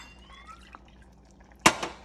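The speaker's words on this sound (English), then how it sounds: "And we're going to put some water in the bowl and get all of that coconut in." Water is poured into a bowl holding the last of a blended coconut mixture for chicken curry, a short splashing burst in a quiet kitchen with a faint trailing drip.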